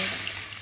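Water poured into a pan of lightly fried mustard seeds in a home kitchen, a short steady splashing pour, fairly quiet and alone.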